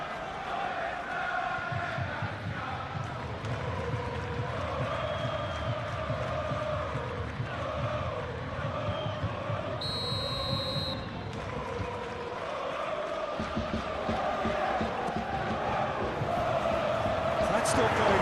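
Stadium crowd noise from a PES football video game simulation of a Juventus versus Cagliari Serie A match, a steady continuous roar and murmur throughout, with commentary over it.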